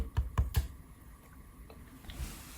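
Several close, sharp keystrokes on a computer keyboard during BMW E87 immobilizer diagnostic work, a quick burst of three clicks then a few lighter taps, without speech.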